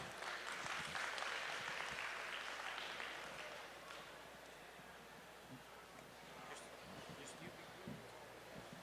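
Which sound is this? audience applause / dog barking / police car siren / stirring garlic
audience applause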